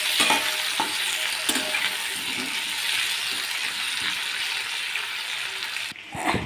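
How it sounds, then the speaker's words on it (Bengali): Ginger, slit green chillies and chopped tomato frying in a pan, a loud continuous sizzle with scattered stirring clicks and scrapes, briefly dropping near the end before resuming. "আদাটা কিছুক্ষণ ভেজে নেওয়ার পর দিয়ে দিচ্ছি কয়েকটা চেরা কাঁচা লঙ্কা আর টমেটো কুচি"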